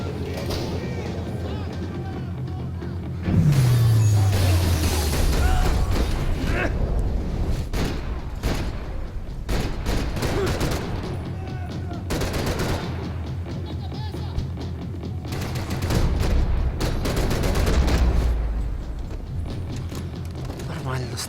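Gunfire in the video game Max Payne 3: repeated loud bursts and booming shots in clusters across the span, with someone talking over the action.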